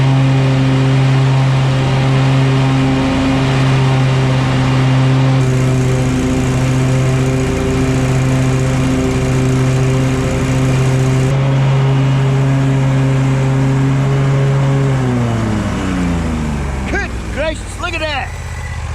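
A lawn mower runs loud and close on a sunny yard, its steady engine drone holding almost the whole time before the pitch sinks as it slows near the end, with faint talk over it.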